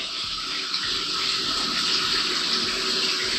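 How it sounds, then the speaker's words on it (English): Water runs steadily from a handheld steam shower in a South of Market San Francisco bathroom, a continuous close hiss and gush with no pauses. "is a steam shower and let me turn that on for you"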